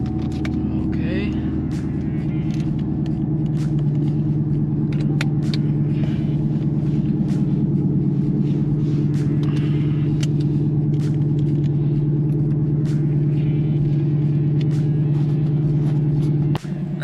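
Chevrolet Camaro SS with a new exhaust and an E85 kit idling steadily up close, a deep continuous rumble holding at a constant level throughout.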